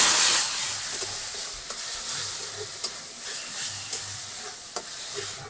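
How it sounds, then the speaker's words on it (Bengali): Spice paste for a Bombay duck (lote fish) curry being stir-fried in a pan, a loud, constant sizzle broken by repeated scraping strokes of a spatula, close up with no voices. "এবার সব মশলা একসঙ্গে খুব ভালো করে কষিয়ে নেবে।"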